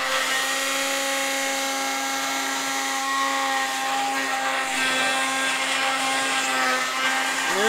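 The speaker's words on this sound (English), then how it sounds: "But it's essentially a do-it-yourself milling machine." A DIY desktop milling machine runs at a trade show, giving a steady, loud mechanical whine with sustained tonal harmonics and a faint rise in pitch near the end, no talking.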